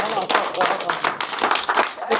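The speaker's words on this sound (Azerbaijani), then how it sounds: "Bəyimiz gəlir, gəlin. Özünə layiq alqışlayaq" Wedding guests clap for the arriving groom, a dense, steady patter of applause from a crowd that runs the whole time, with voices talking over it.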